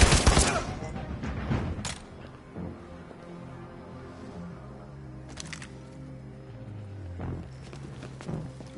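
Gunshots in the video game Detroit: Become Human, a burst of sharp loud cracks at the start followed by scattered fainter impacts and footstep-like thuds over a low game ambience.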